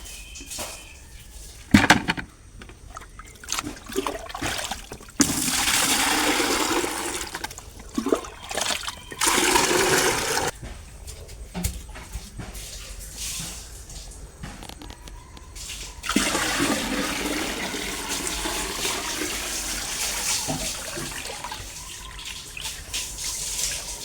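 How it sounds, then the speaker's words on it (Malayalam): Water runs from a tap in a home kitchen while it is collected into a container, coming in loud steady bursts separated by quieter pauses and trickles. "അതേപോലെ തന്നെ വെള്ളം എടുത്തേക്കുന്നുണ്ട് കേട്ടോ."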